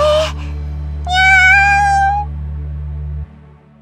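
In a Japanese visual-novel game, a synthesized cat gives a couple of clear, tonal meows, loud and close, over a steady low background music drone.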